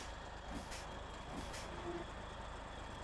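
Truck air brakes hiss in the SnowRunner video game over a steady engine drone, with faint beeps at a low overall level.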